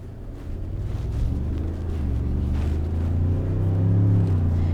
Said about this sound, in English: You can hear it, it's a pretty loud engine.